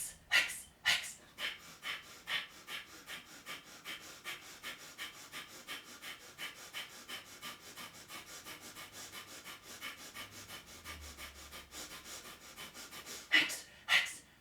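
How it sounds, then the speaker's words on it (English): Kapalabhati yoga breathing during a yoga session, with a steady series of forceful, rhythmic nasal exhales, close and clear, repeating about once per second throughout. "Kapalabhati breathing again"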